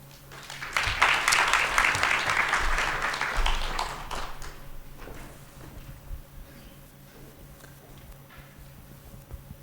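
Audience applause at a ceremony, a dense burst of clapping that swells for about four seconds then quickly thins to a few scattered claps and quiet room noise.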